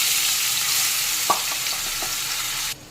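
Soaked rice frying in hot oil with cashews and raisins for basanti pulao, a steady close sizzle with a few light stirring scrapes before it cuts off abruptly near the end.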